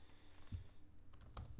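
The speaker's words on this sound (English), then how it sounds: "just typing scn gives me what it might be" A few quick keystrokes on a computer keyboard, soft clicks in a short irregular burst, close and quiet in an otherwise still room.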